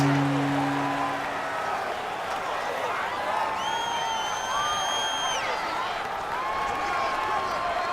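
Stadium crowd in Madden NFL 19 during a Houston Texans vs New England Patriots game, a continuous loud roar filling the whole clip, with a brief whistle-like tone at the start and rising tonal calls mid-way.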